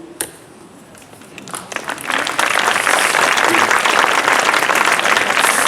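Audience applause at an open-air summer evening show in a park, starting as a few scattered claps and swelling after about two seconds into loud, sustained clapping from a large crowd.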